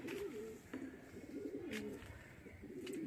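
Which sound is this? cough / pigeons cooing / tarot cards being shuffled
pigeons cooing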